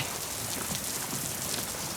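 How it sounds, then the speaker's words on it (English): Steady rain pours down outdoors in a broad, constant hiss with dense patter, close and even throughout with no pauses or other sounds. "It's raining."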